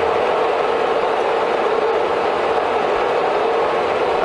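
A Harrison M400 lathe spindle turns at about 100 RPM, giving a steady, even mechanical whir and hum that holds unchanged throughout, with no talking.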